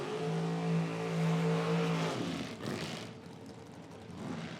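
Quick Rod drag racing cars launch at a Pro Am outlaw nitro series event in Dunn, North Carolina. A loud, droning engine roar with strong harmonics holds, then breaks off into a fading rush of noise.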